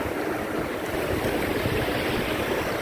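Sea waves wash in at a beach in Goa, a steady broadband rush of surf and churning water heard close and loud with no voices.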